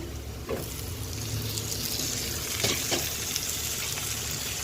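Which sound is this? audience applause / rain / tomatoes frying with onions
tomatoes frying with onions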